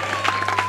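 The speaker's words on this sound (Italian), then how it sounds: "Un applauso!" Audience applause at a music album presentation in Cassino, a soft, diffuse patter of clapping from a crowd over a steady electrical hum.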